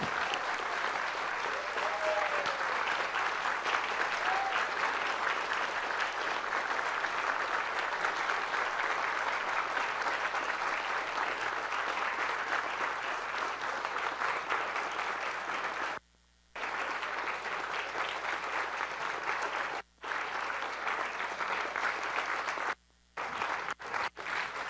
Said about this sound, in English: let us give a big round of applause to our dear and beloved congregant